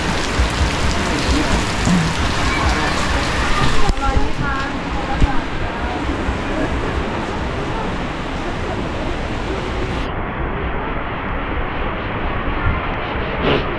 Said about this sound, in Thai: ข้างบนก็ฝนตกอ่ะ